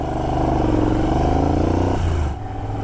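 A Moto Guzzi V11 Sport's V-twin motorcycle engine gives a steady, close, pulsing thrum under load, then drops abruptly to a lower, quieter throb near the end.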